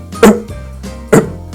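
A voice imitates a child's barking croup cough, giving two harsh, loud, dog-like barks about a second apart, close up.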